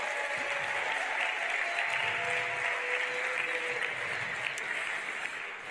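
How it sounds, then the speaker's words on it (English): An audience at an evening awards ceremony applauds steadily, a dense wash of many hands clapping that holds at an even level throughout before easing slightly at the end. "give them a round of applause for all they do"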